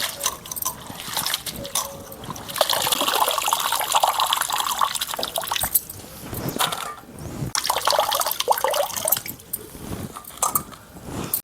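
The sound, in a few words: washing radish leaves in water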